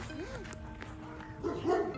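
A dog yips and whines close by, a few short high-pitched calls rising toward the end over faint background noise.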